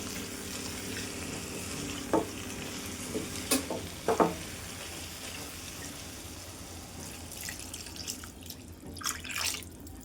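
Stuffed eggplant in a pan of hot oil, a soft continuous sizzle with a few sharp pops and clinks of a utensil scattered through, fairly quiet and without talk.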